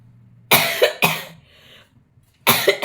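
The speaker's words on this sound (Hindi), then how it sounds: "आज खांसी हमें बहुत परेशान कर दिया है" Three harsh, loud coughs from a person, the first two close together and the third after a short pause, each a sharp burst tailing off in a quiet room.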